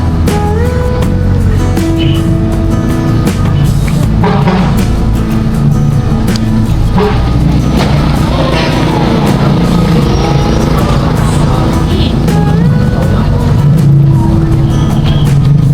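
Road traffic rumbles past steadily and loudly, with car and truck engines blending into a constant wash of noise and an occasional air-brake hiss, while people talk faintly underneath.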